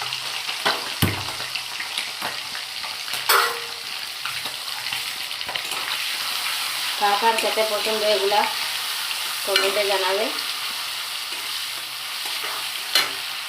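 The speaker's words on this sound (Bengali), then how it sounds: "এখন ওইগুলো আমি আলাদাভাবে ভাজা করে নিচ্ছি" Pieces of duck skin sizzle in hot mustard oil in a wok, a steady frying crackle broken by scraping stirs, while someone speaks briefly over it.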